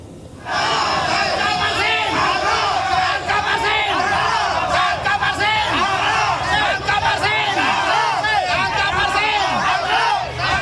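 Dozens of villagers in Kohot village, Tangerang, Banten, shout together in a loud, sustained crowd roar of overlapping yells and cries, close and continuous for the whole stretch.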